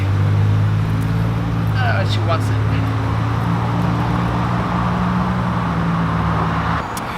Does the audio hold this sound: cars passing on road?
yes